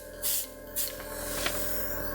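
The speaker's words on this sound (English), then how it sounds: "Now I always spray to make sure the right colour's coming out" Two short hissing bursts of an airbrush spraying metallic paint, followed by a longer softer hiss, close up against a steady low hum.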